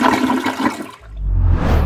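A toilet flushes with a sudden rushing gush of water that builds and carries on loudly, following a short stretch of other noise.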